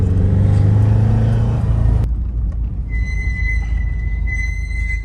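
A warmed-up 2005 Subaru Impreza WRX STI engine runs loud and close with a deep rumbling drone, which drops abruptly partway through to a rougher low idle with a faint high whine.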